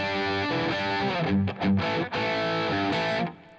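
A distorted electric guitar plays a blues riff that mixes root notes with double stops, ringing loud and close with short breaks between phrases.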